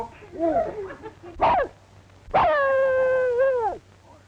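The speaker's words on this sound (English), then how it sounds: "Look, Mary, a little dog." A small dog whimpers and yelps, then lets out one long, drawn-out whining howl, close and loud, after brief earlier whines.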